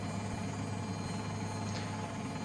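An R44 Raven II helicopter flies in Microsoft Flight Simulator, giving a steady, unbroken rotor and engine drone with a low hum throughout, fairly quiet and with no voices.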